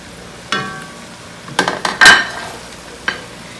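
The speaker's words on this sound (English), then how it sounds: "Now we have to let it fry until this tomato and all spices can get roasted very good." Tomato and spices frying in a pan for shrimp masala, a few short sizzles and stirring scrapes bursting out at intervals over a quiet background.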